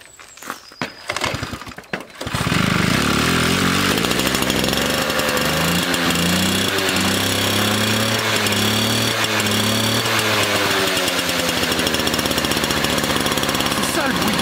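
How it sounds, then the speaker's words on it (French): A Peugeot 103 moped's small two-stroke engine that runs poorly, starting after a few sputtering kicks, then droning loud and close with a rough, buzzing idle and revs that rise and fall. "entendre rugir le petit moteur"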